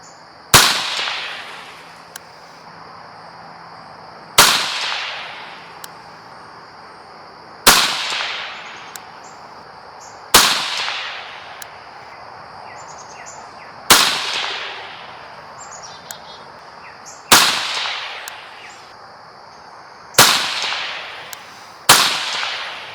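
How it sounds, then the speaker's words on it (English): Bear Creek BC-202 .22WMR rifle firing Maxi Mag 40-grain hollow points in a ten-shot string: eight sharp, loud cracks spaced about three seconds apart, each with a short decaying echo, with faint background noise between shots. "We'll do a 10-shot group."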